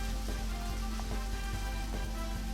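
Steady rain pours in the video game Deadly Premonition, a dense, continuous hiss with faint patter running unbroken and fairly loud, with no voices.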